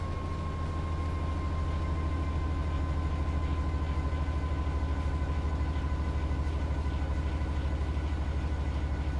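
A Class 90 electric locomotive runs through East Croydon in Train Sim World 6, giving a steady heavy rumble with a constant motor whine and faint rhythmic wheel clatter, loud and unbroken, with no talking.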